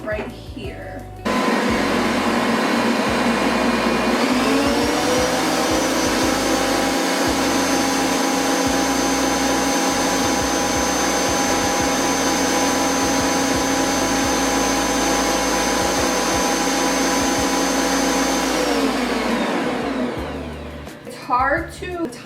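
An electric hand mixer whips glossy meringue frosting for a Puerto Rican bizcocho de novia, a loud, steady motor whir that starts abruptly, holds for about twenty seconds and then winds down.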